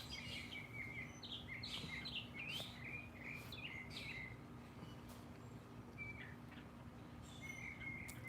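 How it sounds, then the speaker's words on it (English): Several birds chirp and tweet outdoors in summer, short bright calls coming in clusters over a steady low background hum, moderately distant and fairly quiet throughout. "I know the birds are so beautiful here, aren't they?"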